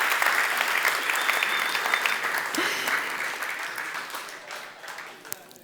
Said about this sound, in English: This is definitely an applause.